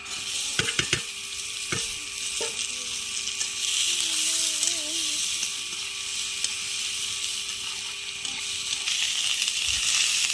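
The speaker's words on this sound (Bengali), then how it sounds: "এবার সবজিটা ভাজবো তার জন্য এই যে পেঁয়াজ আর কাঁচা লঙ্কা কিছুটা দিয়ে দিয়েছি এবার সবজিটা দিয়ে দেবো" Vegetables sizzling in a pan with onion and green chilli, a steady close frying hiss with a few sharp clacks of a utensil near the start and a faint whistling tone partway through.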